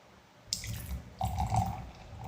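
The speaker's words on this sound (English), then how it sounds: "I love that sound of a really nice cold ale pouring into a glass." Cold Robinsons Trooper ale poured into a glass: a close, soft gush starting abruptly, with a second burst of glugging liquid partway through, no talking.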